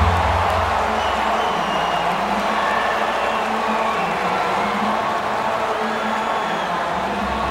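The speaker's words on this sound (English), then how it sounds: "Crowd's been into this one right from the get-go." Arena crowd in the NHL 20 hockey video game, Toronto Maple Leafs against Nashville Predators, a steady loud roar of cheering spectators with scattered clapping, continuous and close throughout.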